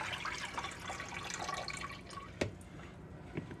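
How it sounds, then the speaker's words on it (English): Tap water runs steadily into a sink while potatoes are rinsed to wash loose dirt off, with a couple of sharper splashes and drips near the end and no talking. "I just want to rinse these off for a minute. Make sure all the loose dirt's off of them."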